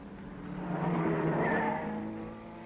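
Race cars battling for the lead at the 1961 Le Mans 24 Hours, with the Rodriguez Ferrari number 17 in front, sweeping past as an engine note swells and fades over a few seconds.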